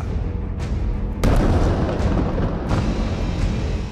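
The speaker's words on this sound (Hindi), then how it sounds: "पहला धमाका," A loud, rumbling explosion from a Hezbollah anti-tank missile strike on Israel bursts out after a lower roar, its boom sustained and heavy with a dense crackling rumble that lingers.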